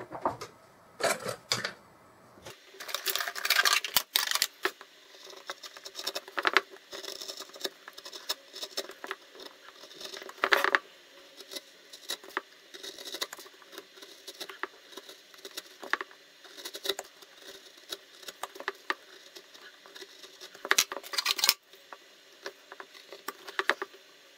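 Knife carving miniature leaves in wood: irregular bursts of small scraping, ticking cuts, quiet and close, clustered with short pauses between strokes.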